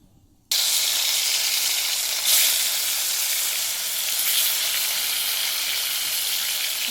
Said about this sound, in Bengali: বসিয়ে দিয়েছি কড়া, কড়া গরম হয়ে গেছে, তেল দিয়ে মাছগুলোকে ভেজে নেব।